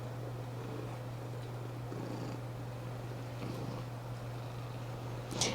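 A pet cat purrs steadily and closely while being petted, a continuous low rumbling drone with a brief faint rustle near the end.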